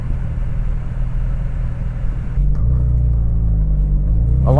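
A Porsche Cayman engine drones as a loud, steady low rumble close by, dropping at one point as a gear changes and then holding under a slightly higher, even tone.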